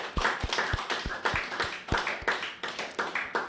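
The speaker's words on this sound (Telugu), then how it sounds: "వారికి కూడా ఒకసారి గట్టి క్లాప్స్ కొట్టి." Rhythmic group clapping at a spiritual meditation gathering, steady repeated claps in a regular beat, fairly close and continuous with no talk.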